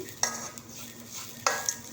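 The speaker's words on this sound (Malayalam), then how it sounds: "നന്നായിട്ടിതൊന്ന് വറുത്തെടുക്കാം ഞാൻ വെളിച്ചെണ്ണ ഉപയോഗിക്കാതെയാണ് ഇത് വറുക്കുന്നത്" Grated coconut is dry-roasted without oil and stirred in a pan for sambar: a soft, low scraping with a few sharper clinks of a spoon against metal.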